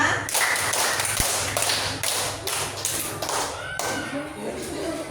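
Students in a classroom clap in a counted rhythm: a series of crisp, evenly spaced group claps with short gaps between them, close and clear over faint room noise.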